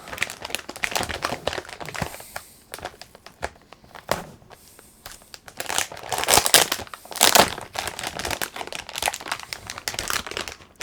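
Crinkling and crushing of packaging as an RTX 3070 graphics card box is opened, with bursts of plastic and cardboard rustle that grow louder and denser toward the middle and stay close throughout, with no talking.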